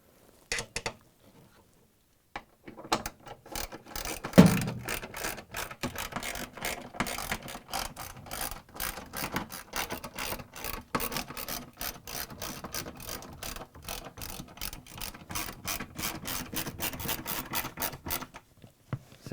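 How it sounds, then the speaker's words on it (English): Bolts being fitted on an LG/Kenmore washing machine clutch assembly, with rapid repeated ratchet clicks from a hand tool in bursts and runs, close and clear with no talking. "Now we can install all the rest of the bolts."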